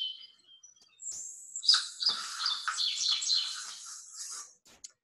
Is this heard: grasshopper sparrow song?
yes